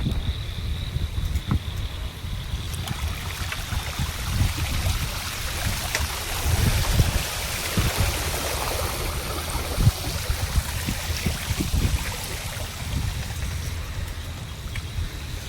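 Steady heavy rain and running water surround a bicycle ride through flooded streets, a dense, continuous wash of splashing and patter with wind that stays even throughout and no talking.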